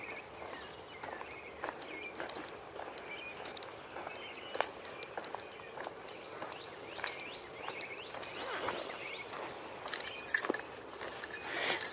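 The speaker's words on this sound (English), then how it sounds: "Hearing one or more robins sing." American robins sing at a distance in an outdoor setting, their short whistled phrases faint and scattered across a steady background hum, with other birds calling now and then.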